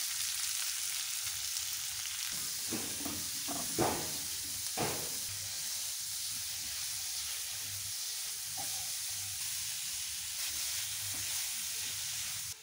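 Chilies and leaves tempering in hot oil in a pan make a continuous soft sizzle and hiss, with a few brief stirring clatters early on, fairly quiet and with no speech.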